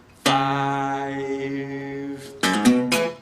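Acoustic guitar picking a Delta blues riff: a note rings out and sustains for about two seconds, then a quick cluster of plucked notes follows, played alone and close.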